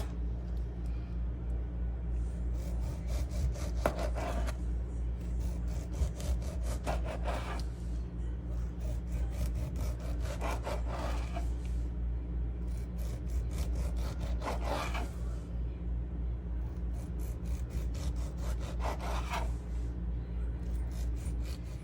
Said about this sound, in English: while your sandwich in the oven, you can slice your tomatoes